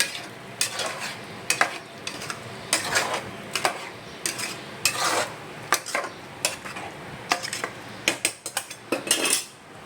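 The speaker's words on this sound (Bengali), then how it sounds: "দিয়ে এবার নাড়বো ভালো করে।" Mutton curry being stirred in a pot, with repeated scraping strokes of a utensil against the metal in an uneven rhythm, close and fairly loud, with no talking.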